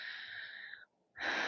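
Heavy, labored breathing after pistol squats during a leg and glute workout, two long rasping exhalations close to the mic separated by a brief pause.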